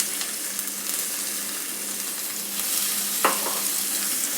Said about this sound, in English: let me add almost 3 medium diced onion